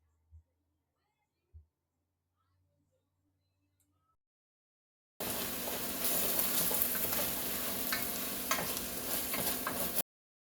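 Chopped tomato and garlic hit a hot pan over a campfire and sizzle loudly and steadily for several seconds, following a near-silent stretch with a couple of soft taps.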